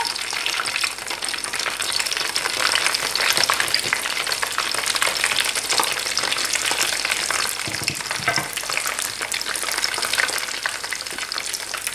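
Pieces of an Asian-style Ramadan starter fry steadily in hot oil in a pan, a loud, dense, continuous sizzle with constant crackle and no talk.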